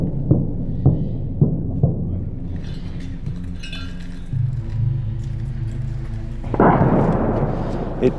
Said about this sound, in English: On the outskirts, you can hear the artillery back and forth between the Russians and the Ukrainians on each side.